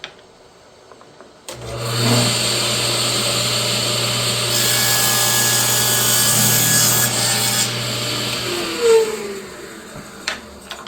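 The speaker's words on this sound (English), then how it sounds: "now on our table saw, we've got our bevel set for 45 degrees." A table saw makes a 45-degree bevel cut off a wood block. The blade spins up with a steady whine and grinds through the wood for about six seconds, then winds down. The sound is loud, close and without speech.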